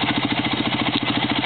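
A tractor racing against trucks runs its engine hard in a steady, rapid chugging pulse at close range, loud and unbroken throughout with no talk.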